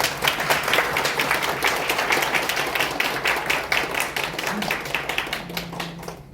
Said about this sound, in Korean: 환영하는 박수로 드리고요